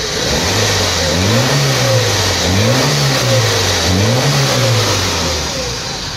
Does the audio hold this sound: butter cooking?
no